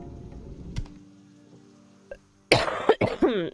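A person coughs several times in a quick burst at close range, loud and harsh, after a stretch of quiet room noise with a faint knock.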